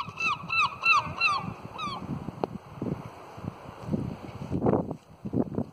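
Several seagulls call in quick repeated cries on the Galway coast, then fall quiet as wind and rustling noise continue.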